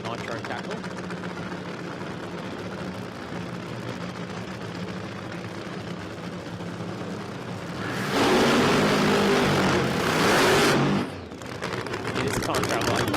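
A nitro-burning outlaw funny car engine at a Queensland drag racing championship qualifying round, heard as a rough, popping cackle that swells louder for a few seconds mid-clip, with a commentator talking over the background rumble.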